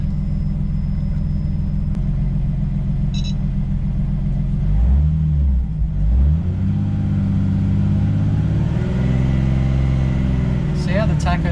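The RB25DET engine of a built Nissan R33 Skyline idles loudly and close after starting, with a steady low rumble and a couple of brief revs midway. A voice talks at the start and near the end.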